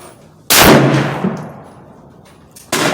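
A single loud gunshot from a Savage Axis II XP hunting rifle at an outdoor range, with a sharp crack and a long, fading reverberation, followed by the onset of another loud blast.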